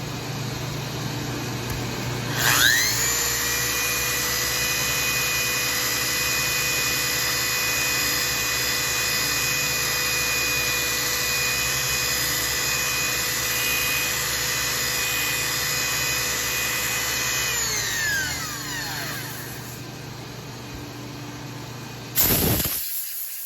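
A rotary polisher with a 100 grit pad works scratched glass, spinning up into a loud, steady whine with a grinding hiss that holds for about fifteen seconds, then winds down and stops.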